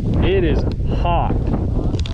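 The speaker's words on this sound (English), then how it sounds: "Wind about blew my bike over." Strong wind gusting outdoors on a hot day during a motorcycle ride on the Trans America Trail in Oklahoma or Kansas, a loud continuous buffeting rumble over the microphone, with a voice heard briefly.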